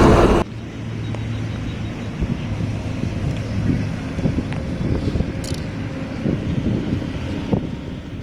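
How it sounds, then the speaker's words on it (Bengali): Steady, loud wind roar buffets the microphone while riding a TVS Apache 310 RR motorcycle on a highway, with a low engine drone underneath and occasional gusty bursts throughout, no talking. "তো ফাইনালি আজকে আমি অ্যাপাচি 310 RR চালাচ্ছি"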